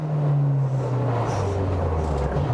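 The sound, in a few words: 1968 Ford Escort touring car engine at high RPM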